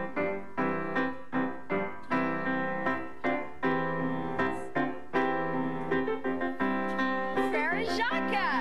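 Frère Jacques is played as a bright, steady melody of plucked or struck instrument notes in a children's music program. The notes are even and rhythmic, and a voice briefly joins near the end.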